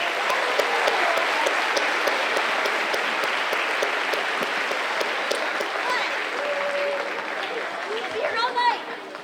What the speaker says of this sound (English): Can we just give that band one more round of applause, please?